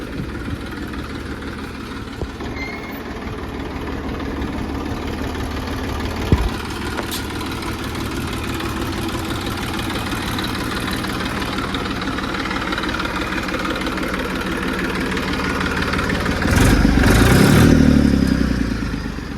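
A Massey 241 tractor engine idles close by in a steady, rumbling chug, continuous throughout and swelling briefly louder near the end.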